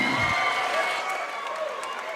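Crowd at a corporate boxing-style fight night in Perth roaring and cheering as a round ends, a loud, sustained mass of voices and scattered claps with shouted tones rising through it.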